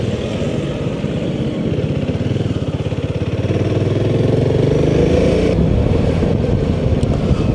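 A Royal Enfield Himalayan 450, a 450 cc single-cylinder motorcycle, runs steadily with a loud, close, continuous engine drone that swells slightly partway through, with no talking.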